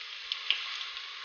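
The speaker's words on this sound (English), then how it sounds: "put the remaining onions in the same pan, use the same heat" Onions sizzle in a pan over medium heat for chicken biryani, a steady hissing fry with a few faint pops and crackles, close and alone with no talking.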